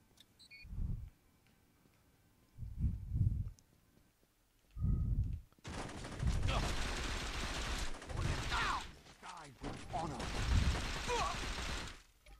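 Pistol gunfire in Saints Row 2 during a golf cart shootout: a few short separated bursts of shots, then a long dense stretch of rapid overlapping fire with other game noise, loud and close.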